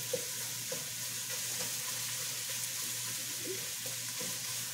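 Ground beef sizzles and fries steadily in a hot pan as it browns for a spaghetti tomato sauce, a continuous close crackle with occasional stirring scrapes and no talk.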